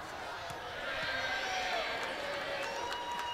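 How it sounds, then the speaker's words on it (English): A Sunday afternoon crowd at an Ole Miss women's basketball game against ULM in the Pavilion cheers steadily as the clock runs out, a broad distant roar with sneaker squeaks and faint court sounds. "this crowd that has showed up on a Sunday afternoon at the pavilion showing their approval"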